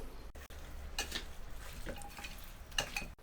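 Chicken pieces being mixed by hand with spices for dum biryani, giving soft, wet squelching and stirring with a few light clinks of a pot or utensil, fairly quiet and close, with no talking.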